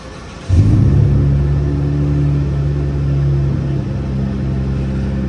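A Dodge Charger GT V6 with the rear muffler deleted and 4.5-inch tips starts up warm, its engine catching abruptly and then settling into a loud, deep, steady idle rumble.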